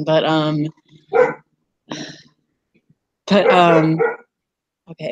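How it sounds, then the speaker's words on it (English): A dog barks in several loud, close bursts, alternating with a voice talking and brief silences between them. "I'm sorry about that dog. I'm so sorry."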